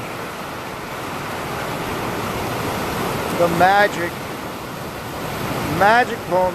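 Sea waves wash steadily onto the shore in a continuous broadband surf roar, with a voice speaking briefly over it near the end.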